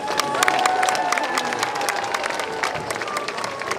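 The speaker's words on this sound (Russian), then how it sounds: "Конечно, аплодисменты не смолкают." Enthusiastic crowd applause with some cheering rings out for a children's choir at a Republic Day event in a reverberant hall, loud and sustained throughout.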